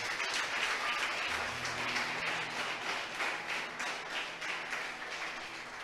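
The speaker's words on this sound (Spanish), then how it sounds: "¿Cuántos le aplauden a Dios por esto," A church congregation applauds, dense sustained clapping filling the room at an even level for several seconds, with no voices above it.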